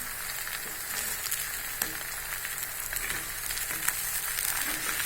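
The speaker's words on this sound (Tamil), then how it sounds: "ஏன்னா இதில் எண்ணெய் பொங்குது." Sesame oil sizzles and bubbles steadily in a pan of frying raw banana curry, a continuous close crackling hiss with a few soft stirring clicks and no voices.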